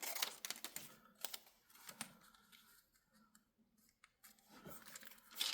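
Scissors cutting a large paper window envelope in half, quiet crisp snips and paper rustles coming in short irregular bursts with a few pauses, close up and faint.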